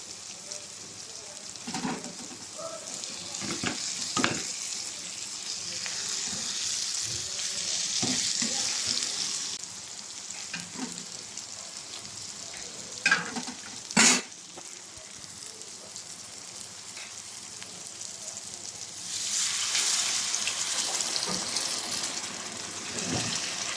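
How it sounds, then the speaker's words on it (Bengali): Onions fry in a pan for a hilsa fish curry, giving a steady close sizzle with scattered clinks and scrapes, then water is poured in near the end and the hiss swells and rushes, with no talk. "এই পর্যায়ে আমার পেঁয়াজটা একটু হয়ে আসছে, তো এখন আমি পরিমাণ মতো জল দিয়ে দেবো সিদ্ধ হওয়া পর্যন্ত।"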